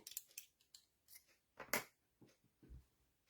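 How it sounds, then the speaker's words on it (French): Scissors cut through a ribbon bow on a handmade card, giving several quiet, crisp snips at an uneven pace with one louder close cut in the middle. "Hop, mon petit nœud, je viens couper."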